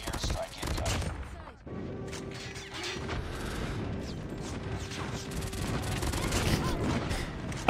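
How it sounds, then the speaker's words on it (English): Rapid MAC-10 submachine gun fire in a first-person shooter match, dense crackling bursts running almost continuously at close range, mixed with game effects and a sustained tonal hum. "I don't know what you do against someone pre-firing a MAC-10 like that, especially in that range."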